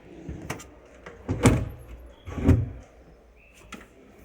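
Interior kitchen drawers opened and shut in a showroom, giving a few separate soft sliding thumps and clacks with quiet gaps between them and no talking.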